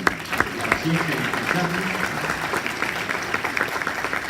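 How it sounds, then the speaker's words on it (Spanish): Conference audience clapping in a hall, a moderate wash of applause with scattered sharper claps, while voices talk over the start and middle. "Gracias por esos aplausos que me emocionan hasta las lágrimas."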